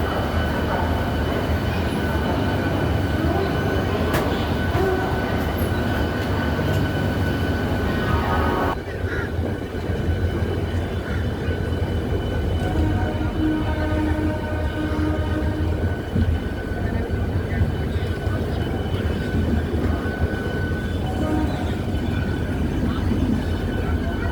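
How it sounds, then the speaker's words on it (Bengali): The Howrah Bolpur Shantiniketan Express pulls out of platform 12 at Howrah station, with a steady rumble and wheel clatter throughout and faint squeals now and then. Someone talks over the train noise. "ঘড়িতে বাজে ঠিক 10টা বেজে 2 মিনিটে আমাদের ট্রেন 12 নম্বর প্ল্যাটফর্ম থেকে ছেড়ে দিব"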